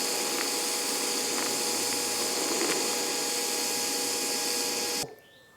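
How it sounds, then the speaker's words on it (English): TIG welding with a low-cost 3-in-1 welder, a steady close hiss and buzz of the arc running continuously for about five seconds before cutting off abruptly, with no talking. "Let's do that again, and we weld another area. So again, it's touch and go."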